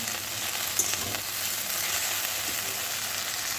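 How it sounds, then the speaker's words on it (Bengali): Potatoes fry in hot oil in a pan, a continuous, even hiss, close and steady throughout, with one small click near the start. "এরকম আলু ভাজা বসিয়ে দিয়েছি"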